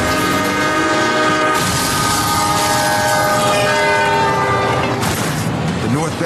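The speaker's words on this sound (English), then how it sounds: "The train is just seconds away" A loud northbound train horn blares in long sustained blasts as the train rumbles close by, approaching a level crossing, with the sound continuing steadily throughout.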